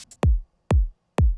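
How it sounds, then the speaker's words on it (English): Two quick, bright cymbal ticks lead into a deep kick drum in an electronic track built from film sound samples; the kick lands three times at a steady pace, punchy and close, with short decays and clean silence between hits. "together with these little cymbal fills"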